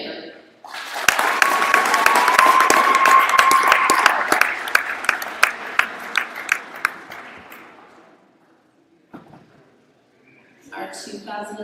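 A crowd in a high school gym applauds graduating volleyball seniors. The loud sustained clapping rises quickly, holds for several seconds, then fades out. A voice is heard briefly near the end.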